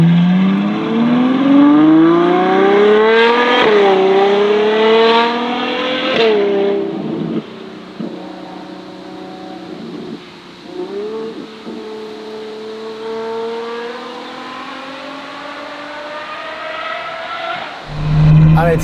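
A Novitec Ferrari 812 N-Largo S with a Novitec exhaust revs hard, its V12 howl climbing through repeated surging sweeps, dropping back and rising again, loud and close with a sharp burst at the end.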